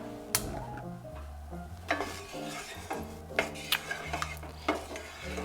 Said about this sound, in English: A couple tablespoons butter. And we're gonna just melt those together.